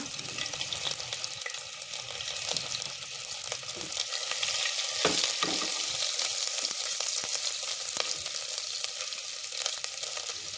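Homemade ginger garlic paste frying in oil with cumin, a dense, bright, steady sizzle heard up close, with a few brief stirring knocks and no speech.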